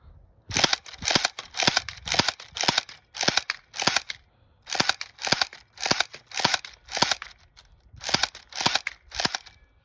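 Elite Force electric airsoft gun firing semi-automatic at a close target, sharp snapping shots in quick regular bursts of about six to eight, with brief pauses between groups, close and loud.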